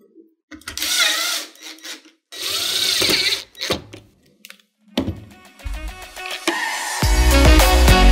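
Power driver whirring in bursts as it drives an H6 screw into a panel of a KICK Onyx 55-inch foosball table, several short runs with pauses, ending in a longer, louder spin near the end.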